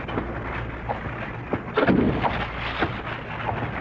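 Radio drama sound effect of a night rainstorm: steady hiss of heavy rain with a rumbling thunder crack near the middle and smaller rumbles around it.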